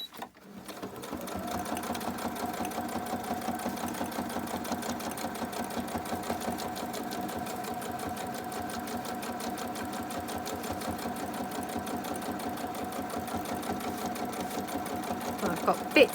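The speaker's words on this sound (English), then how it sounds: "I'll just pull my sewing machine slightly in." A sewing machine runs steadily at close range, its rapid mechanical stitching chatter continuing evenly without a break.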